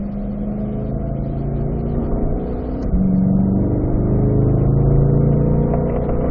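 A Chevrolet Corvette C8 engine hums steadily on a race track, its pitch climbing through a gear before a brief shift into fourth, then pulling strongly again from inside the cabin.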